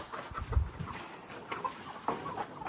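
A rooster clucking close by, a string of short, uneven clucks and grunts over a couple of seconds with no one talking.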